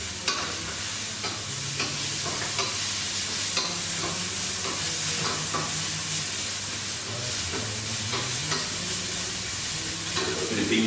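Mushrooms and nuts for a vegetarian pie sizzle steadily in a pan on a hob while being stirred, with scraping strokes over continuous frying hiss and faint music in the background.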